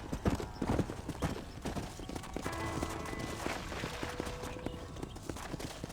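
Horse hooves clip-clopping in the Western video game Red Dead Redemption, a brisk steady rhythm of hoofbeats running continuously with a brief neigh, no talk.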